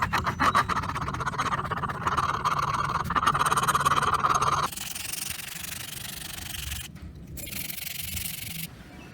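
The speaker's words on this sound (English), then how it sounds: "I'm going to take some sandpaper and a file" Close, rhythmic rasping strokes of sandpaper and a file working an edge, steady scraping with no talking.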